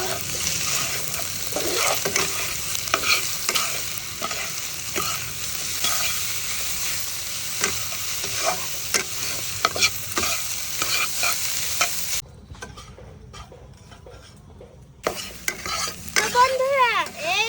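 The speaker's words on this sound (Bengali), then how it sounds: "এই যে দেখুন করলাটা ভালোভাবে ভেজে নিয়েছি তো শেষে দিয়ে দেবো পুড়ে রাখা নারকেল" Bitter gourd and roasted coconut are stir-fried in a pan, with a constant close sizzle and frequent rhythmic scraping strokes, dipping quieter for a few seconds before the stirring resumes.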